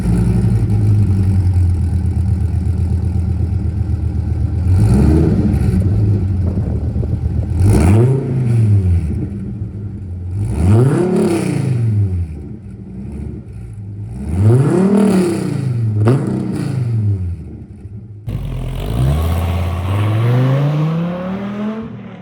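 A Dodge Viper SRT10 ACR-X on the Putnam Park Road Course revs hard through repeated climbing and falling sweeps, several loud passes with gear changes, ending on a strong rising pull, with no talking.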